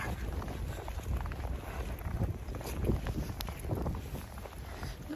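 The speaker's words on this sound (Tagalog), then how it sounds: "Lakas ng hangin. Lakas din ng snow." Strong wind from a snowstorm with heavy snow in Edmonton, Canada, roars and buffets the microphone in a constant, rumbling rush, with no one speaking.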